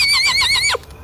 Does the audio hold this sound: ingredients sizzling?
no